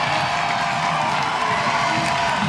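A stadium crowd at a women's professional soccer match, Montréal Roses FC against AFC Toronto, sends up a dense, continuous roar of cheering, loud and sustained throughout.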